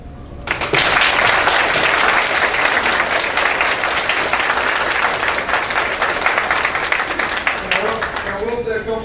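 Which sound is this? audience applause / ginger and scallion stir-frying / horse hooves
audience applause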